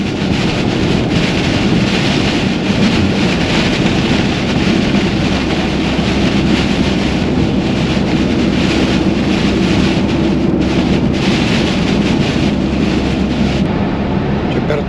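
Rain heard from inside a moving car, a constant loud hiss and rush of drops and road noise with no break and no voices.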